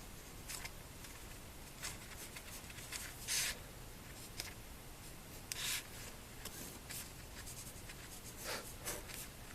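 A pen scratches across paper while a circuit diagram of a transistor load in common emitter configuration is drawn, giving soft, close, continuous rubbing with a few brighter strokes and no talk.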